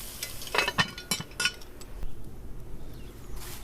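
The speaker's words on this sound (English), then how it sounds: "We're going to cover it up and then come back in a couple minutes." Cast iron Dutch oven being covered with its lid during a camp-style Mountain Man breakfast, heard as several close metallic clinks and clanks in quick succession, then fading into quiet background with no talking.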